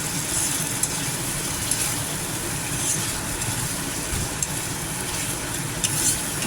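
A paste of ground rice, poppy seeds and cashews is sautéed in oil in a pan for doi potol, giving a steady broad hiss with a few faint clicks, close by and continuous.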